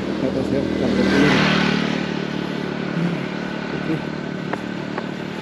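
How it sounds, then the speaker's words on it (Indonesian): A Honda Scoopy motor scooter rides a mountain road toward a camping ground, its engine humming steadily with wind rush and a few light clattering knocks, swelling briefly early on before settling into an even cruise. "Motor Scoopy."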